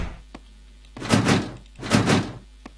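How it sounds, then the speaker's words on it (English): A stuck door in a pixelated horror video game rattles and thuds in two broad bursts about a second apart, close and fairly loud, with a faint tap beforehand and no talking. "Okay, the door is stuck."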